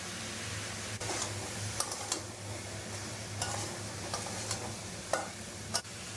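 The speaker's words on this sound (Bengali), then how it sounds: "দু মিনিট নেড়ে চেড়ে নিয়েছি।" Mango chutney with turmeric is stirred in a pan, soft sizzling under repeated scraping strokes of a spoon against the pan, fairly quiet with a steady background hum.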